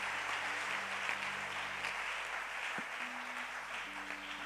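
A church congregation applauds for the Lord, producing sustained, dense clapping that fills the room. A few faint tonal sounds rise and fall beneath it, and no voices are heard.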